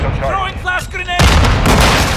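Flash grenade bursting in Call of Duty: Modern Warfare 2 multiplayer, a sharp loud crack with a harsh ringing wash that follows shouted talk, with gunfire in the mix.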